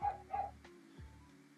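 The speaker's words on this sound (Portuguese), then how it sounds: "São dois cachorros, eles estão latindo um contra o outro agora." Two dogs bark at each other outside, giving a few short, faint barks and a yip from a distance in quick succession.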